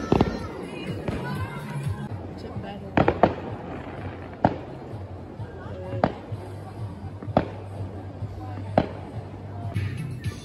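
Fireworks for the 4th of July burst in a series of sharp booms spaced a second or more apart over steady outdoor ambience, with people talking close by between the blasts.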